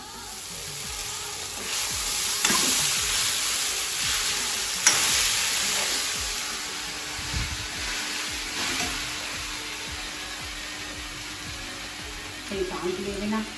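Ingredients roast and sizzle in a hot pan for sabudana, with steady frying hiss and occasional stirring scrapes, close and moderately loud, with brief faint voices near the end.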